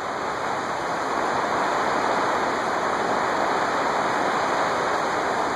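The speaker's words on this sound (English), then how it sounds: "I know you guys hear that rain." Steady, loud rain pours outside in an even, unbroken hiss, heard alone without talk while an industrial ceiling fan is being tested indoors.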